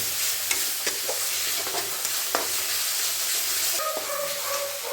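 Ginger garlic paste sizzles in hot oil in a pan while being stirred for a chicken kasa, a continuous frying hiss broken by scraping and clinking of the spatula.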